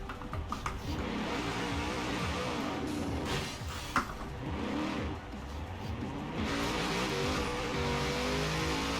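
A car launches from a standstill in Forza Horizon 4, its engine revving hard and bouncing off the limiter in first gear with brief tire chatter, a steady loud drone running throughout.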